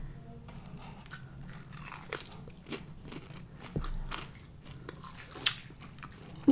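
Biting and chewing Wingstop chicken wings up close, with a run of crunchy bites and wet chewing at an irregular rhythm, fairly quiet, with no talking.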